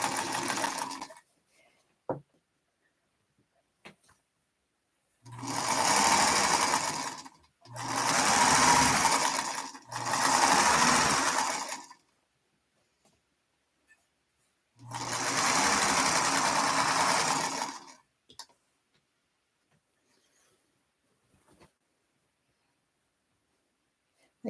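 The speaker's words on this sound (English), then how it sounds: "I'll sew for probably 30 more minutes" Sewing machine stitching quilt pieces runs in four close, steady bursts of a few seconds each, separated by quiet pauses, with faint handling clicks between.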